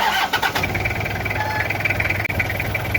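A cold car engine with its thermostat removed cranks and catches, then settles into a steady, rough idle with a constant low hum and no talk.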